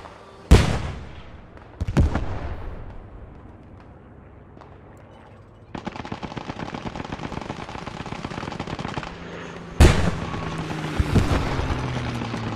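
Tank cannon blasts hurling high-explosive shells at a church tower in the WWII shooter Post Scriptum, set around Best: several loud, sharp booms with long rumbling tails, and a steady machine-gun clatter rattling on between the shots.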